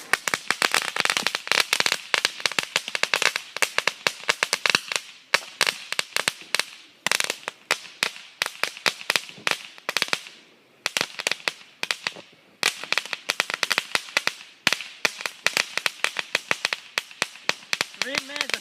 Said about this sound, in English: And loud, intense crackle.